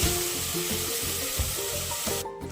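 A ground tomato, coriander and mint masala fries in a pan for tomato bath, giving a close, dense sizzle with soft rhythmic stirring scrapes, steady throughout, with no voices.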